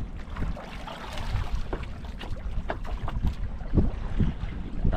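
A boat rumbles across the water nearby, a steady low churn with wind noise and a few sharp knocks and splashes, growing slightly louder toward the end.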